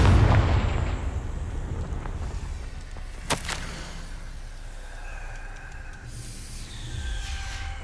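A Confringo spell blast in Hogwarts Legacy goes off as a heavy boom at the start, followed by a rumbling fade and a sharp crackling pop midway, with game ambience continuing underneath and no talking.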